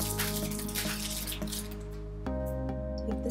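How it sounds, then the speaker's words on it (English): A towel is wetted under running water, a close gurgle with soft drips and sloshes, with a short pause and a shift in the splash as the cloth is moved. "So let's warm it up. Wet my towel."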